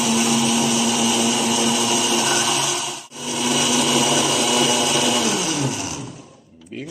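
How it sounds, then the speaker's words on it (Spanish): A blender whirs loudly and steadily as it purées fried chili peppers with water, briefly stopping and restarting, then winding down at the end. "A ver, metemos la licuadora."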